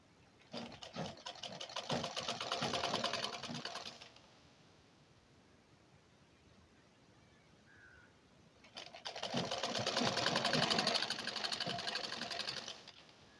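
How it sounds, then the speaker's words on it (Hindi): A sewing machine runs a half-inch seam around a blouse piece in two bursts of rapid stitching, separated by a quiet pause of several seconds. "इसमें हम आधा इंच की सिलाई चारों तरफ से लगाते चले जाएंगे"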